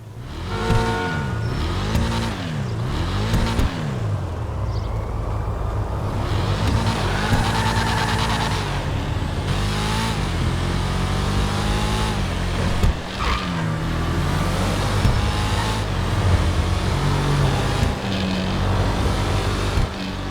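A Bravado Verlierer sports car engine in GTA revs and roars loudly and continuously, pitch climbing and dropping through gear changes, with occasional tire squeal, close and unbroken throughout.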